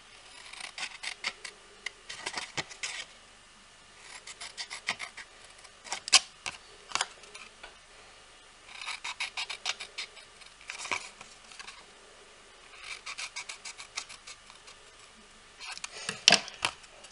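Scissors cutting through folded paper pieces, a close series of quick crisp snips and rustles in several bursts with short pauses between them.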